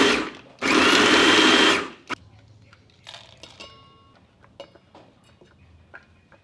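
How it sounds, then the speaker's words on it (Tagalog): A small food processor grinds carrots and garlic in one loud, whirring burst of just over a second, then stops, leaving quiet clicks and clatter of the bowl and lid. "At gigilingin lang natin to hanggang maging finely chop yung mga gulay."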